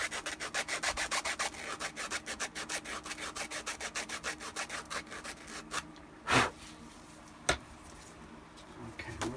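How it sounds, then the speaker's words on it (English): Close, steady rhythmic sanding strokes rub back and forth along a Shadow Trooper armor strip, a quick run of repeated scrapes before a pause and two brief knocks. "Just going to sand that a little bit just to take off the anything that might catch you."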